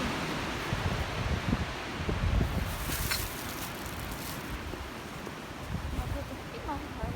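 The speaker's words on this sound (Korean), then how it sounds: "바람 진짜." Steady wind blows through a forest campsite at a Seogwipo natural recreation forest in Jeju, a broad continuous rush with gusty swells, close and fairly loud throughout.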